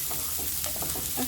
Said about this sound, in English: I'm going to add my zucchini and also toss this around.